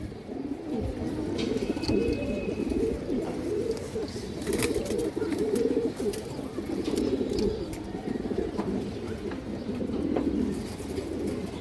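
Pigeons in a loft, fancy breeds kept for show, coo steadily in low, rolling murmurs that run throughout, close and layered, with a few faint chirps above.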